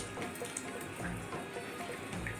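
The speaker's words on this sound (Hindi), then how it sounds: "आप इसीलिए डाल रहे हो ना इस पानी को?" Water is poured into the batter for traditional singal, a continuous close trickle and splash with slight bubbling, moderately quiet, with no one speaking.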